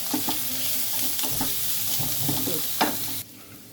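Black cumin seeds and green chillies frying in a pan, a loud continuous sizzle with light stirring taps, heard close up without talk and cutting off near the end.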